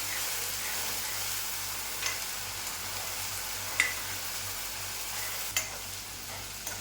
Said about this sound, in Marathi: टोमॅटो प्युरी आणि छान तेल पर्यंत चांगलं याला सुद्धा परतून घ्यायचं